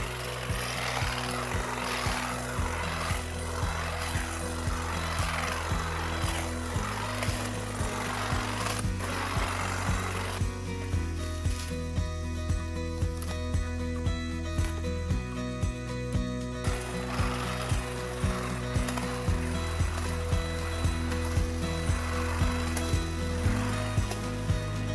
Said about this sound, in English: we're going to take our little Sager hedge trimmer with the hedge trimmer attachment now, and we're going to try to clean up this area